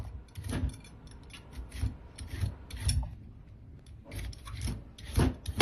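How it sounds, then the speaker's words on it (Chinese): A small cleaver peeling the skin off a celtuce stem, producing a series of close, scraping rasps in irregular strokes with short pauses between them. "再用小劈刀把外皮削掉不要"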